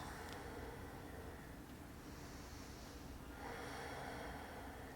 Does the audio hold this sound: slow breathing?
yes